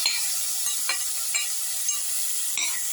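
A spoon stirs salt into basmati rice with carrots and cumin, making soft scraping, clinking strokes over a faint sizzle, close and quiet, with no talk.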